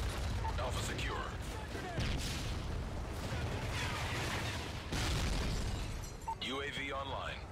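Booming explosions and bursts of gunfire from a Predator missile strike in Modern Warfare 3 domination play on the Dome map, dense and continuous, with in-game radio voice chatter over the rumbling blasts.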